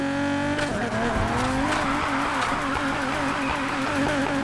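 A Nissan 350Z drifts in the racing game Need for Speed Heat, its engine droning loud and steady while tires squeal continuously through the slide, with no pauses.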